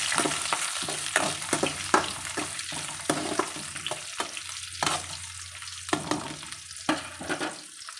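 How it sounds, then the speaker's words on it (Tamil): Onions, green chillies and curry leaves sizzle steadily in a hot pan, with a spatula scraping and tapping repeatedly against the metal as they are stirred. "பச்சை மிளகாய், கொஞ்சம் கருவேப்பிலையை ஆட் பண்ணிவிட்டு இதை நல்லா வதக்கிக்கலாம்."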